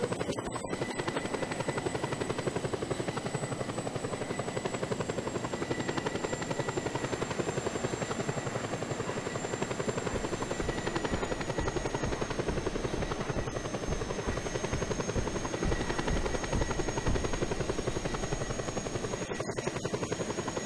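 Helicopter in the Just Cause 2 multiplayer game, a steady loud rotor thumping with a high turbine whine that shifts slightly in pitch, continuous and near throughout.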